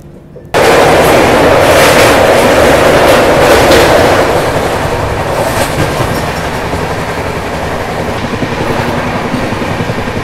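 An Okha express train runs on rails between Puri and Visakhapatnam in Odisha, starting abruptly with a loud roar of wheels and rhythmic clickety-clack that carries on steadily, close and dominant the whole time.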